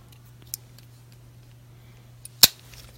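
Small scissors on a Swiss Army Fisherman pocket knife snip twice, a faint click followed later by a sharp, loud snap against a quiet room with a low steady hum.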